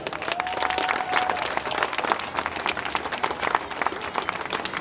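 An audience at a white night street event in Novi Ligure applauds the town council and the Cuore di Novi consortium, a dense, steady wash of many hands clapping that holds loud for nearly five seconds.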